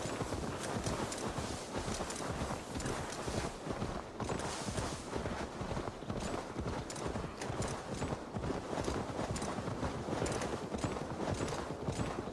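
Horse hooves clip-clop in a rapid, steady rhythm in Assassin's Creed Valhalla, a continuous run of hoofbeats at moderate level.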